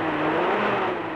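An engine fuelled by a mixture of 60% water and 40% alcohol runs with a steady, loud whirring drone, brief and continuous, with no voices.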